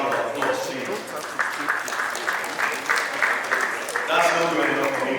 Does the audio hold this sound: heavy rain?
no